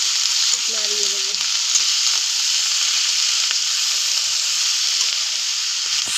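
Chilli leaves fry in a pan seasoned with turmeric and salt, giving a steady, close, loud sizzle with a brief stirring clatter near the start.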